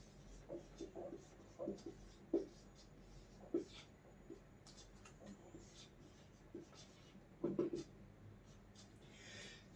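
Marker or chalk writing on a board during a maths class, a series of short scratchy strokes in irregular bursts, close and moderately loud, with soft breathing between strokes.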